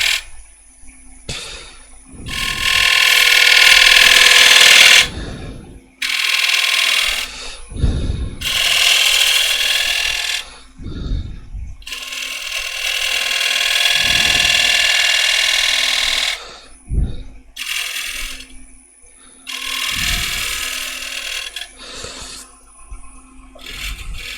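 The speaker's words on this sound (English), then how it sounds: "So I've got a 10mm spindle gouge. Just gently bring that in." Woodworking lathe turning a bead with a 10mm spindle gouge, bursts of loud broadband cutting noise alternating with quieter gaps where the lathe hum continues, repeated several times as the gouge is brought in and withdrawn.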